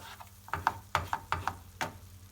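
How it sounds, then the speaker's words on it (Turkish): Roasted flour stirred in oil in a pan for a sweet halva, a run of scraping, clacking spoon strokes in an uneven rhythm over a faint sizzle, close by. "Güzelce yağım her tarafında unu pütür olmasın diye böyle bir çevirdim."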